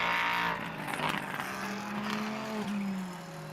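GT3 and GTC race cars at Slovakia Ring during an ESET Cup endurance race, engines roaring loudly past with a rising whine, one car following close behind another, heard from trackside.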